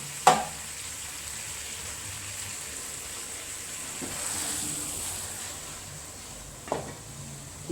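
A Kerala mezhukkupuratti vegetable stir-fry cooking down in a pan as its water dries off, a soft continuous sizzle with a few sharp utensil knocks at the start and near the end.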